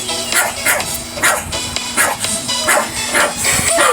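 Several dogs barking and fighting indoors, with loud repeated barks, yips and whimpers in bursts throughout.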